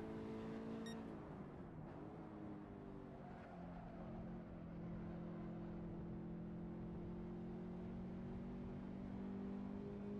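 Toyota GT86 race car engine in the Assetto Corsa Evoluzione racing game drones steadily for ten seconds, a sustained tonal hum that dips briefly as if shifting, then holds a constant pitch.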